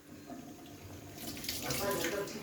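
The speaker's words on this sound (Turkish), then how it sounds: "Yağlı Tepsini yıka, tepsini yıka, tepsi kaldır, yıka tepsi." Tap water runs into a sink while a greasy baking tray is washed, a steady splashing hiss that swells louder partway through, close by, with a voice speaking faintly underneath.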